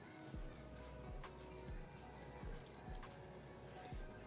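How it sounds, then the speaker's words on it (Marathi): Dough being kneaded by hand with small additions of water makes soft, wet squishing and pressing sounds in a slow, regular rhythm. The sound is quiet and close, with no talking. "आता आपण यामध्ये पाणी टाकून पीठ मळून घेऊयात"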